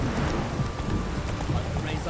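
Video game rain falls as a dense, steady hiss with a low rumble beneath, continuous and fairly loud for the whole stretch.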